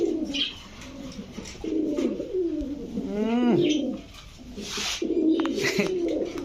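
Pigeons, racer, Giribaz and Lahori breeds, coo repeatedly nearby in low, throaty rolling calls, overlapping one another, with faint background rustling.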